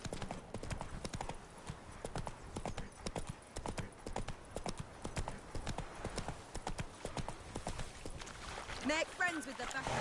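Roach, a horse in the video game Witcher 3, trots with steady rhythmic clip-clop hoofbeats throughout, under occasional game speech and ambient sound.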